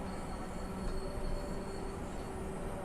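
A train in Train Simulator 2017 rumbles along steadily with a faint high metallic whine over the rolling noise, continuous and moderately distant.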